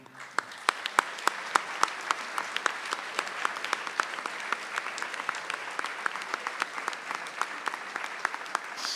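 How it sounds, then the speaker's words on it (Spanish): Strong applause from an audience at an honorary doctorate ceremony welcoming a folk and tango singer, with many hands clapping in a steady, moderately distant roll that holds throughout without speech. "Así que la recibimos con un fuerte aplauso."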